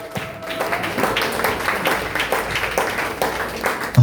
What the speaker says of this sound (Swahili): Mpigie Bwana makofi, mshangilie Bwana.